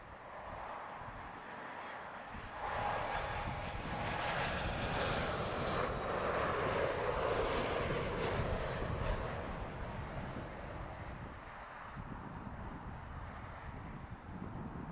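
An airliner passes by at London Heathrow Airport, its jet engines a broad, steady roar that swells in the middle and slowly fades, with some wind buffeting the microphone.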